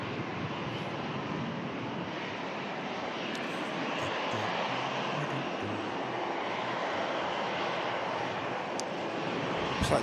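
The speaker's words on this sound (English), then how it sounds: "Looks like the Etihad's not too far away from taxi now." An Etihad aircraft taxis at Manchester Airport in stormy weather, its engines a broad, steady roar that swells slightly toward the end, heard from a distance with some wind buffeting.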